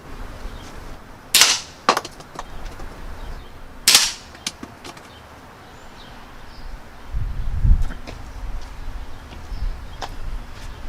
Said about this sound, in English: Let's shoot at the cardboard just to see what it'll do on penetration on that.